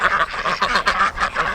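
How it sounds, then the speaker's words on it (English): Several ducks quack in a rapid, continuous run of loud, nasal calls near a greenhouse in early February, the bursts overlapping with brief gaps between them. "Oh, here come the ducks."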